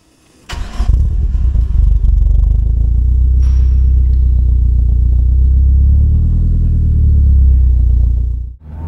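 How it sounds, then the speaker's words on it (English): Ford Escort RS Turbo engine running steadily up close, a loud, even idle with a deep rumble that lasts several seconds before cutting off abruptly. "That is a happy engine."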